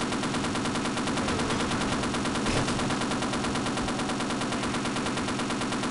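Sustained rapid fire from a mounted gun in Half-Life, a dense continuous rattle with no breaks for the full length, loud and close, with one slightly stronger burst near the middle.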